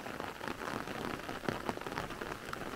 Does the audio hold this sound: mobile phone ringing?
no